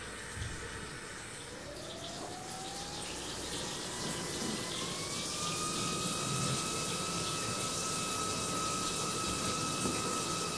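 Water runs through a small micro hydro power turbine at about 15 litres a minute, a continuous rushing flow with a whining tone that rises in pitch as the turbine spins up and then holds steady.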